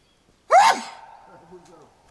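One loud, close sneeze outdoors with a sudden explosive onset, followed by a lingering breathy tail and a faint murmur of voice afterward.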